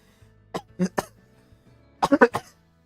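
A short cough, then after a pause a quick burst of three or four harsh coughs, close to the microphone with a quiet background.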